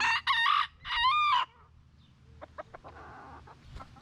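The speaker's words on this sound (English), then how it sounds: "this little guy's got to strut his stuff and give me a nice cock-a-doodle-doo" A rooster in a chicken run crows loudly and close, a drawn-out cock-a-doodle-doo, followed by softer clucking and scattered noises.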